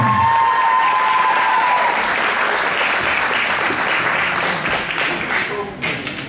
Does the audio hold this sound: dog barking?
no